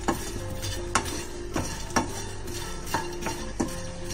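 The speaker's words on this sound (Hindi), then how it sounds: "अब यहाँ पे हम इसमें थोड़ा सा नमक मिलाएंगे और इसे अच्छे से मिक्स कर लेंगे।" Roasted makhana (fox nuts) tossed with a pinch of salt in a pan, with a soft dry rustle and sizzle broken by about six regular scraping strokes of a spoon against the metal.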